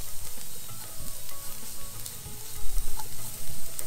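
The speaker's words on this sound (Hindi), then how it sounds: "लगभग 15 मिनट का समय इसे सेकने के लिए लग जाएगा हमें, कि हमें इसे क्रिस्पी होने तक सेकना है।" Pumpkin skin roasting in a pan until crisp, heard as a busy, close sizzle with repeated scraping stirs and crackles throughout.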